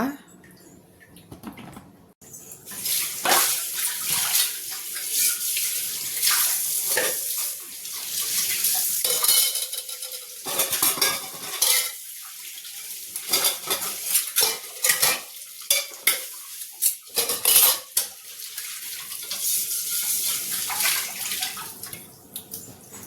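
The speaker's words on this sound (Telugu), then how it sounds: "కొన్ని గిన్నెలు ఉన్నాయి, అవి తోమేస్తా." Running tap water splashes while dishes and utensils clink and clatter against each other, steady scrubbing and rinsing up close.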